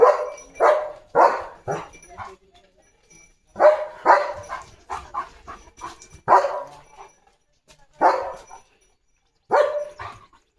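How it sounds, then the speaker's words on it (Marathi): Leo, a German Shepherd, barks in a series of loud, close, single barks separated by short pauses, with a few softer yips among them and no talk. "भुंकून भुंकून लिओला लागली तहान"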